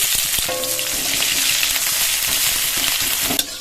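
Whole cumin, dried red chilli and chopped onion fry in mustard oil in a pan, giving a loud, dense, crackling sizzle that stays steady from start to finish, with a sharp clink near the end.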